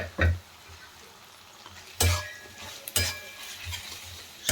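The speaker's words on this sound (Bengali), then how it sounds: "সব কিছু ভালোভাবে মিশিয়ে নিয়েছি।" Eggs stirred and fried in a pan for a street-style Maggi noodle fry, soft sizzling beneath a few sharp clinks and scrapes of a utensil against the pan.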